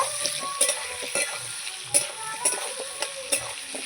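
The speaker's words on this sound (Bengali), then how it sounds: "লবণ নাড়িয়ে ছাড়িয়ে নেব" Fish pieces with salt being stirred in a pan for katla fish curry, a close bright sizzle with regular scraping and tapping of a spatula, no talking.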